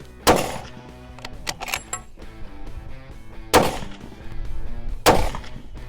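A Christensen Ridgeline 300 PRC rifle fitted with a track torque optic fires three loud, sharp shots at uneven intervals. Metallic clinks and handling noise fill the gaps between the shots.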